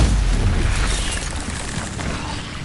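Incendio and Stupefy spells cast in the Hogwarts Legacy video game make a dense, continuous roar of booming blasts and crackling bursts that stays loud from start to finish.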